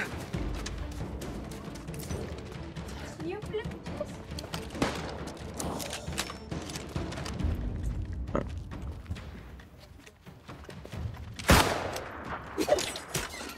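Gunshots in a video game ring out in a dense, continuous clatter of overlapping shots and impacts, with one louder blast near the end and no voices.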